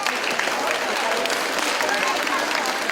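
Applause from a school stewardship day audience as sixth-grade winners are announced, steady broadband clapping filling the whole stretch at close, even loudness with no pauses.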